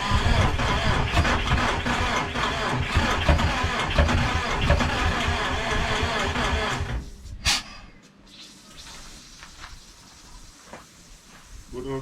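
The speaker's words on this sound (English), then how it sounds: "Just gonna touch it to 12 volts. We're gonna hopefully try to get our first start." An engine wired to 12 volts cranks and roars to life, running loud and rough for about seven seconds before abruptly cutting out, followed by a quieter hiss and faint sounds.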